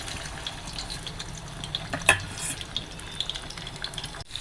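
Hilsa fish frying in hot oil, a soft continuous sizzle with a brief sharp crackle midway and small pops, close and fairly quiet, no voices.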